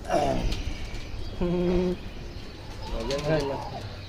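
Pigeons coo in short, throaty bursts, close by, under a voice talking.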